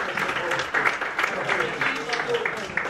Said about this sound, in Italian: Un applauso ad Alberto Petrolini, attore, amico.